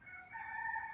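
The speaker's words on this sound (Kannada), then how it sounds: "ಕೋಳಿ." A rooster lets out a single, brief crow that rises and holds, close and clear against an otherwise quiet background.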